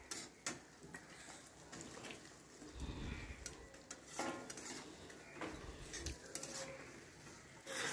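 Potatoes tipped into a cooking pan and stirred in with cashew paste for a vegetarian potato, pea and paneer dish, as quiet metal clinks, scrapes and light thuds of the spoon against the pan, close and intermittent.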